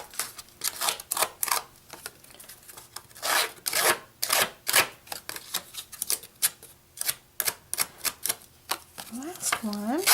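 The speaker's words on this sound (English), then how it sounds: "Just roughing up all these edges." An X-Acto knife blade scrapes repeatedly along the edges of kraft cardstock, giving close, dry rasping strokes in quick irregular bursts, with a brief voice near the end.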